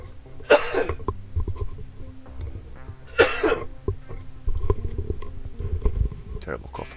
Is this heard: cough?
yes